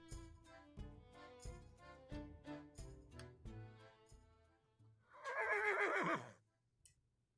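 A horse gives a loud, close whinny near the end, rising over a quiet musical background with rhythmic piano-like notes before it.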